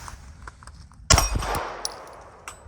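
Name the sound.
Beretta APX A1 9mm pistol gunshots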